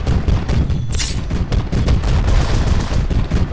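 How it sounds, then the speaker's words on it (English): A heavy las gun firing in a Warhammer video game, loud continuous rapid bursts of energy-weapon fire with booming impacts layered densely over a few seconds. "Stop shooting. Stop shooting. No. Is that a heavy las gun?"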